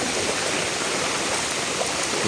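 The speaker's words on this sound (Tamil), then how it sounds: "சரியான மழை அடை பெய்து கொண்டிருக்கின்றது" A dense, steady wash of rushing water fills the scene, heavy rain pouring down with flood water flowing nearby, constant and loud without pause.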